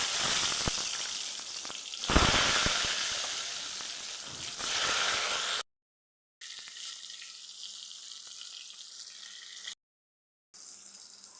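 Eggplant slices rubbed with salt and turmeric fry in hot oil, a loud, bright, hissing sizzle that runs steadily and cuts out twice for brief silences.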